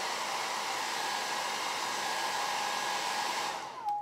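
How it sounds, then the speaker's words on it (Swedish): A handheld hair dryer blows steadily and loudly for about four seconds while drying alcohol ink, a constant airy roar that cuts off abruptly near the end. "Jag ska försöka låta bli att prata när jag drar igång hårfönen."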